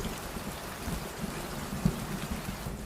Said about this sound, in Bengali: এমন সময় মেঘের গর্জন, ঝমঝম করে বৃষ্টি নামলো।